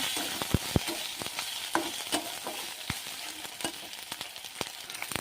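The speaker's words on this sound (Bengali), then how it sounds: "এখানে আদা রসুন ভাজা হয়ে গেছে, তাতে টমাটো দিয়ে দিলাম। টমাটো দিয়ে ভাজা হবে।" Tomato fries with ginger and garlic in a pan, a steady soft sizzle broken by frequent sharp crackles and stirring scrapes, close up and with no voices.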